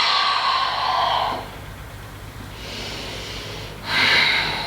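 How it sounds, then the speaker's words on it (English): Two long, steady breaths exhaled during a gentle yoga flow, each a broad airy rush of a second or more, close and fairly loud, separated by a quieter pause with no talking. "And exhale."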